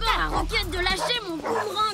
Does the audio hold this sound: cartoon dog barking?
yes